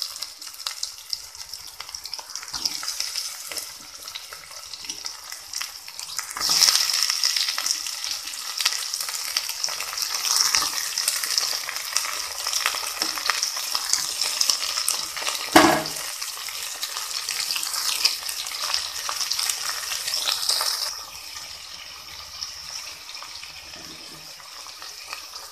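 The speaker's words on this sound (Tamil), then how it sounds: "இப்போ நாம் சுத்தம் பண்ணி வச்சுருக்கிற இந்த காடையும் சேர்த்து வதக்கிடலாம்." Quail sautéing with onions in a pan, a steady close sizzle running for about twenty seconds with occasional scrapes and clinks of stirring, then dropping to a quieter hiss near the end.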